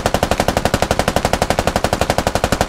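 Rapid automatic gunfire in a military combat video game, a fast, even burst of loud repeated shots with no pauses.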